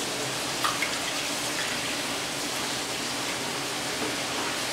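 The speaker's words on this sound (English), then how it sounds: "Put 800 ml of water." Tap water running steadily into a pot, 800 ml poured for broth in a Korean tteokbokki recipe, a continuous soft hiss with no speech.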